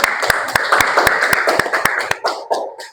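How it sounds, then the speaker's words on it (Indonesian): A chemistry class of students at an Indonesian madrasah claps together, sharp hand claps in a fast, slightly uneven rhythm that gradually thins out and fades by the end. "terima kasih, tepuk tangan"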